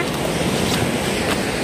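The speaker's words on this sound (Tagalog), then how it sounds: "maririnig nyo yung alon. Alon over there." Ocean waves wash at Yangyang by the sea, heard as a brief, loud, steady rush of surf mixed with wind buffeting the microphone.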